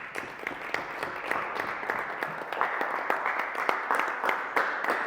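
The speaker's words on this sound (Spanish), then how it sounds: "Denle un aplauso al Señor." A church congregation applauds the Lord, a sustained, dense round of many hands clapping that holds steady and swells slightly toward the end, with no talk over it.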